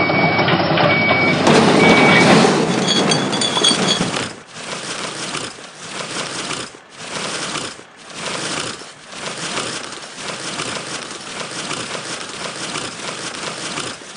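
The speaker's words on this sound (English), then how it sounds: "Now open the hopper to dump the garbage." A video game garbage truck dumps its load. Loud rattling and rumbling fill the first four seconds, then steady rhythmic reversing beeps repeat alone at close range.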